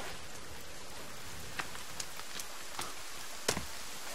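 Steady rain falls in the survival game The Forest, a constant hiss of drops with a few sharp, brief taps and knocks scattered over the top.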